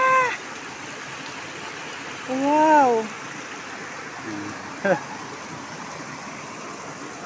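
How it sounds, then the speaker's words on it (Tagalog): Creek water flowing steadily on farmland, a constant close rushing wash under brief exclamations from someone speaking. "Ayan ang kanyang sapa. Wow, ang ganda."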